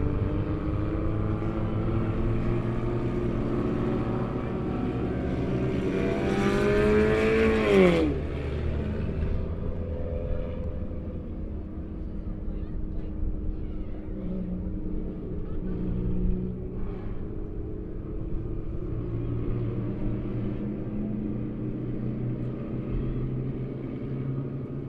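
Race cars roar around a dirt track during an exhibition race, a dense continuous engine rumble with one sharp rising rev sweeping up midway before settling back into a steady, loud drone.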